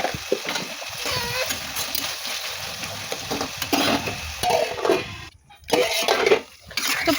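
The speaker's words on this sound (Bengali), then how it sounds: "হালকা করে ভেজে নিয়ে একে একে সবজিগুলো সব দিয়ে দিলাম।" Vegetables being stir-fried with salt in a pan for pasta: a spatula scrapes and clatters against the cookware over a steady low sizzle, with a brief pause before the stirring picks up again nearby.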